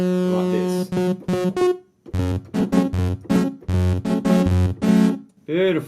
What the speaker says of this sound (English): when you play your MIDI keys it's going to sound